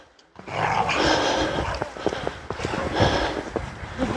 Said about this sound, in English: Two dogs here, look, being friendly.